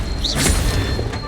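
An Incendio fire spell cast in the Hogwarts Legacy video game: a short, muffled whooshing burst with a soft boom, one quick swell of energy fading within about a second.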